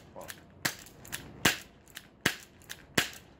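A cheap airsoft revolver fires its six shots, with the hammer cocked by hand before each one. Each shot is a sharp, close snap, spaced about three-quarters of a second apart, with softer clicks of the hammer between them.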